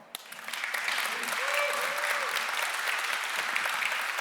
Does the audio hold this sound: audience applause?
yes